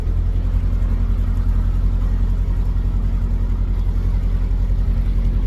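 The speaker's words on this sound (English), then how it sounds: "there's a boat coming the other way" A low, steady narrowboat engine drone rumbles throughout on a canal, loud and close, chugging along at an even pace.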